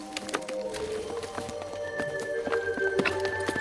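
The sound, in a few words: horses walking, hooves clip-clopping in Patagonia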